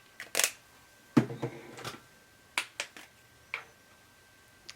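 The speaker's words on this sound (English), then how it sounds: "Do a couple little practice sprays." Several short practice sprays from a can of yellow spray paint: a few quick, sharp hissing bursts separated by brief pauses, close by and with no talking.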